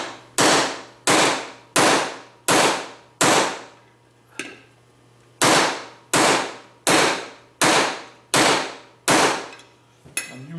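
A 14mm socket is hammered against a bearing to drive it out on a solid workbench, giving about eleven loud, sharp metallic strikes in a steady rhythm, each ringing briefly, with one short pause partway through.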